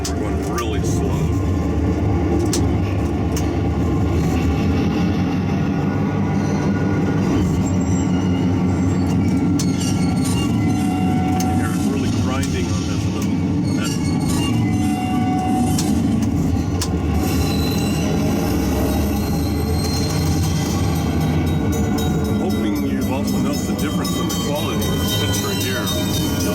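A model train locomotive creeping slowly backwards on a layout with a DCC throttle, its steady running sound continuous and fairly loud, with faint squeal from the curve mixed in.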